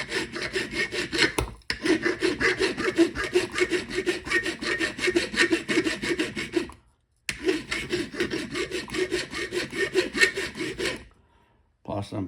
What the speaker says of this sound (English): Plus, I'm filing soft aluminum.